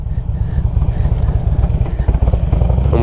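A Harley-Davidson motorcycle engine runs close and loud with a rough, lumpy low-end throb that stumbles slightly as if close to stalling.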